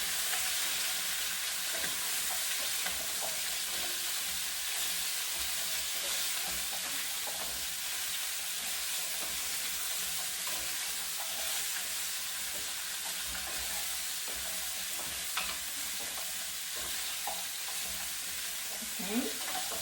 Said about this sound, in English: Stir them together.